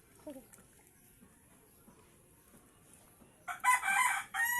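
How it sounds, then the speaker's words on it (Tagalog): A quiet stretch with faint background murmur, then a loud, harsh duck call bursts out close by for about a second near the end. "nag-iyaw po kasang pato"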